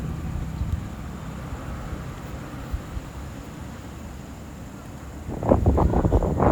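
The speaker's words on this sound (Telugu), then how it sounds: "గాలి అయితే విపరీతంగా వస్తుంది" Strong wind roars and buffets steadily at close range at a farm poultry shed, with a short burst of heavier gusting near the end.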